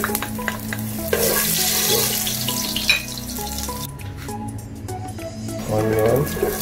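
Garlic frying in hot oil in a pan for oxtail kare-kare gives a loud, steady sizzle with occasional stirring clatter, and a voice talks over it.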